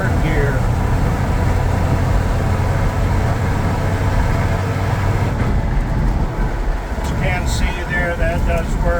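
Loud, constant gear whine and rumble from the failing transmission of a 1965 Plymouth Valiant in gear on the road, steady throughout with faint chirping noises near the end.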